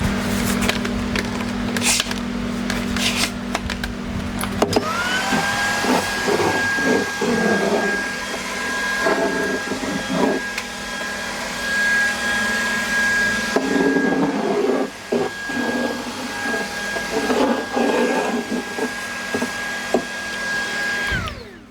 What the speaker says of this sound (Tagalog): after cleaning using Dream V12S cordless stick vacuum